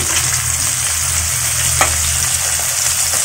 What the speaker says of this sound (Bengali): এগুলো আমি হালকা করে ভেজে এটার সাথে আমি আস্তে আস্তে সব কিছু একসাথে দিয়ে দিচ্ছি